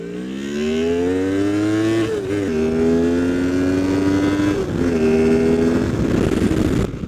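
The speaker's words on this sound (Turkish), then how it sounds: "Gazı açıyorum ya." A new motorcycle's engine revs hard as the throttle opens, loud and close. The pitch climbs steadily through several rising pulls with short dips between them over a rough, throaty roar.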